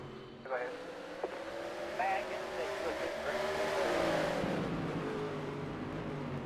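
Stock cars in the NR2003 racing game lap the short Rockford Speedway oval in a steady engine roar, pitch rising and shifting as cars pass, with someone commentating over it throughout.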